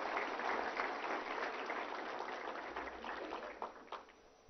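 A seated audience at a Human Rights Day event in a large New Delhi hall applauds to welcome the Vice President of India, a broad, moderately distant wash of clapping that slowly thins out toward the end.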